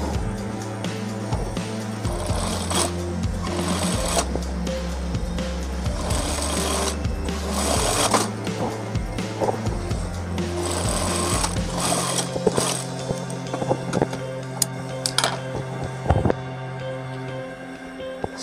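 A sewing machine stitches along a zipper on a round-collared gamis dress, its needle running in a fast, continuous mechanical chatter up close, with brief pauses and changes in pace and a few sharper clicks near the end.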